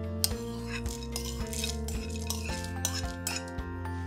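Repeated dull thuds of fried peanuts being pounded with sugar in a mortar, roughly every half second, with light clinks between, close and steady, no talking.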